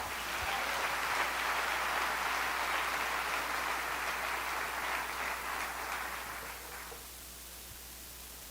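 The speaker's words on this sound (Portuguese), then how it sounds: "Aplauda Jesus." Church congregation applauding together, a dense wash of clapping that holds steady for about seven seconds and then drops away to quiet room tone.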